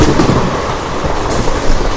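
A special passenger train between Secunderabad and Villupuram rolls along the rails with a loud, steady rumble and faint clatter. The sound is heard from close by, without speech.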